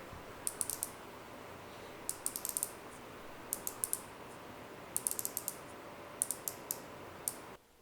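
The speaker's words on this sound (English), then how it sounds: "But the bezel action is really nice and very decisive. Each click is extremely audible and tactile feeling." Bezel of a Boldr Odyssey Freediver dive watch turned by hand, giving crisp, close ratchet clicks in quick bursts of several, separated by short pauses, alone against a quiet background.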